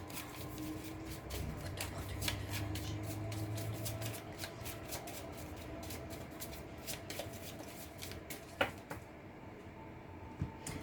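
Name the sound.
shuffling tarot cards for a four-card reading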